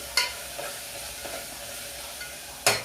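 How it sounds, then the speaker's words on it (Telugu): Ginger garlic paste fries in a pan with a soft, steady sizzle, broken by a few sharp utensil clicks, the loudest near the start and end. "ఈ అల్లం వెల్లుల్లి పేస్ట్ కూడా కొంచెం వేగనివ్వాలి మనం, పచ్చివాసన పోయే వరకు"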